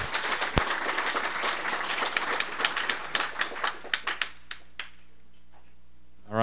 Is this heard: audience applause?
yes